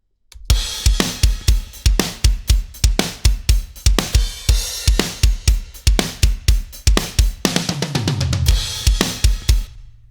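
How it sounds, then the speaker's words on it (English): Heavily processed metal drums pound out a tight, loud beat with booming kicks, cracking snare and bright cymbals, closing on a rolling tom fill. "take some recorded drums and make them big and punchy"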